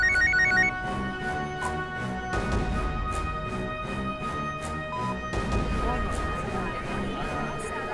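A mobile phone ringtone plays loudly and steadily for several seconds as a repeating electronic melody in a courtroom drama scene, with other sound effects layered in.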